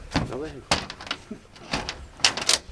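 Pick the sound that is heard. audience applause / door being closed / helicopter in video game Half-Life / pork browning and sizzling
door being closed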